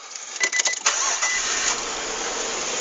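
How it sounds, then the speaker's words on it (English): A supercharged Nissan Xterra engine, its serpentine belt removed, cranks briefly and catches, then settles into a steady, fairly quiet close idle. "So I've taken it off and I'm going to show you as I start the car."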